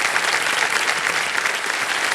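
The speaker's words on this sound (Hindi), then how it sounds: "तालियां बज जाए इनके लिए।" A studio audience at a quiz show bursts into dense, continuous applause, loud and close throughout.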